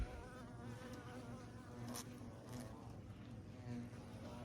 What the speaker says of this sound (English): we're finding a shitload of Asian hornets